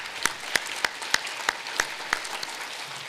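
Sparse, slow hand claps ring out from a community gathering at a home care organization event, about seven distinct claps at a steady rhythm, fairly faint and distant.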